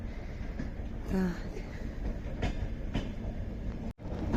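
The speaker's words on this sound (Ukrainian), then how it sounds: "О, електричка приїжджає." Electric commuter train arriving outdoors on a cold day, a steady rumble of rolling wheels with faint clicks and a short horn-like tone near the start, while someone briefly speaks close by.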